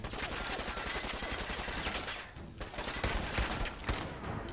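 Rapid bursts of gunfire in Fallout 4, dense and continuous with a brief lull midway before shots resume, loud and close with no talking over them.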